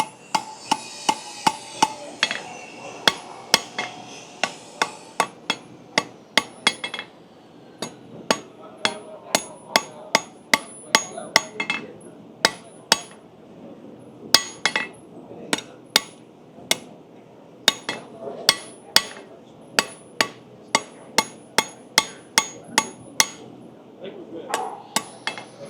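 Blacksmith hammering hot steel on an anvil to upset and shape a hook at a forge demo: sharp ringing blows, close and steady in quick bursts, separated by short pauses.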